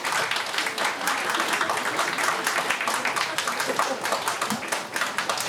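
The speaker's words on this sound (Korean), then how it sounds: "큰 박수 보내주세요" Guests at a Korean traditional wedding ceremony applaud in a sustained, dense round of clapping that carries on steadily throughout, with light voices underneath.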